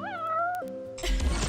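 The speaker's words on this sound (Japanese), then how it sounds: "この贅沢猫。" A cat in Final Fantasy XV gives one drawn-out, rising-then-falling meow, close and clear, followed by a burst of game sound effects.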